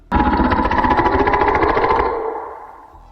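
A loud, gravelly monster growl from the Roblox game DOORS erupts suddenly, holds with a rough rattling texture for about two seconds, then fades away with a lingering tail.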